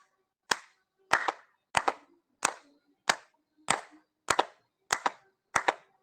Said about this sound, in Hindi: अब ताली बजा लेते हैं 15 बार